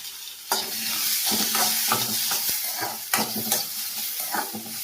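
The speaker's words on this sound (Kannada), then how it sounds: "ಸ್ವಲ್ಪ ಬಣ್ಣ ಚೇಂಜ್ ಆಗೋವರೆಗೂ ಈ ರೀತಿ ಫ್ರೈ ಮಾಡಿ" Onions and garlic fry in a little oil in a pan, with a steady close sizzle broken by repeated scraping stirs.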